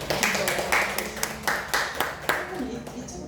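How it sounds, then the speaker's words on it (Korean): A church congregation claps in welcome, a steady rhythm of roughly a dozen close, moderate claps with voices murmuring underneath. "박수로 좀 환영하고"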